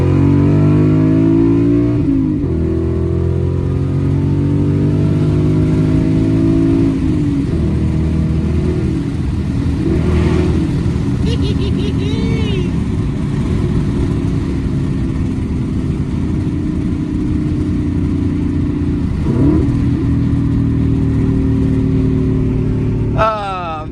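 A manual Ford Mustang GT V8 pulls hard, its engine note climbing through the revs, dropping at gear changes and climbing again, loud and close from inside the car.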